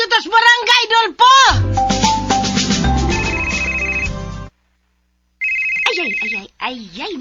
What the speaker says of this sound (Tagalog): Ayay, di bagting ang akong cellphone.